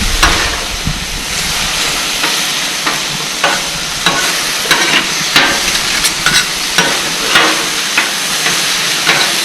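Teriyaki beef sizzles loudly on a hot griddle as it is glazed, a constant frying hiss broken by regular scraping and stirring strokes from a spatula.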